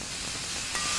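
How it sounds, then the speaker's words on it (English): Spare ribs sizzle steadily in a hot pan after being parboiled, a continuous close hiss that swells slightly louder near the end, with no talking. "And you can hear it sizzling very, very well."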